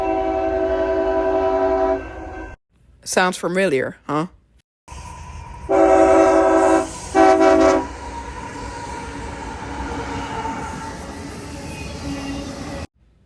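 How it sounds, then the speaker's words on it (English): A train rumbles past with long horn blasts, a brief voice cutting in between, the steady rolling noise continuing afterward. "I hear a train clearing milepost 143"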